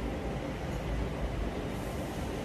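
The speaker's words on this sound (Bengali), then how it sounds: "এই যে মেট্রো আসতেছে" A Bangkok metro train arrives at a station platform, giving a steady, loud, broadband rumble that holds unbroken throughout with no clear voices.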